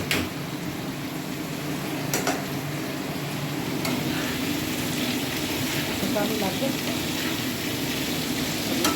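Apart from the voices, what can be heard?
potatoes frying and being stirred for chowmein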